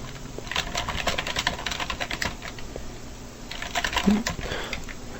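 A password is typed on a computer keyboard in a steady run of close, crisp keystrokes with uneven rhythm, clicking along for several seconds without any voices.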